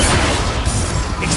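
Spell-cast explosions from the video game Hogwarts Legacy rumble and crash in a dense, loud burst of low booms and debris-like noise, sustained without clear separation.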